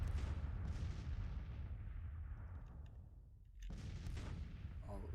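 Artillery fire in a Grand Tactician battle, with booming blasts that roll on and fade, a lull, then another loud rumbling round near the end.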